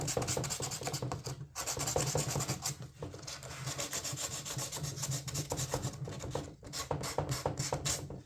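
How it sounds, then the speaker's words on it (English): Abrasive scrubbing on a fiberglass car door panel, roughing the surface before epoxy; continuous close rasping strokes with a few short pauses, fairly quiet and alone. "So I want to get in there and rough that up as best as I can."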